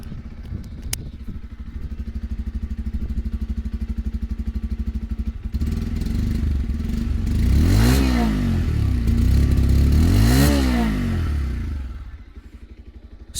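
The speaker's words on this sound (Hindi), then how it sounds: "तो अभी न्यूट्रल में है ये और मैं फायर अप करता हूँ तो ये कुछ आइडियल साउंड सुनने को मिलेगा आपको।" A 2024 Bajaj Pulsar 125 motorcycle idles in neutral with a steady, close thumping beat, then the engine revs up twice and drops back to idle.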